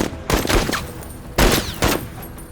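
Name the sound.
gunfire in the video game Menace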